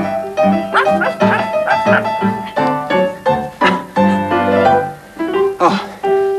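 A dog barks repeatedly in loud, close, uneven bursts, some yippy and whining, with no talking over it.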